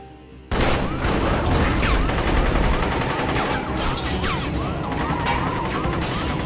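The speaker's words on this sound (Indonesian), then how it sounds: "Aslinya sih ini tembak-tembakan slow motion banget." Gunfire from a film shootout erupts suddenly and stays loud and dense for several seconds, with rapid overlapping shots, crashes and whizzing sounds filling the scene.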